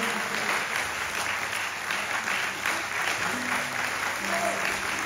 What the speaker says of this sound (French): J'aimerais qu'on applaudisse bien fort Christian qui est avec nous ce soir.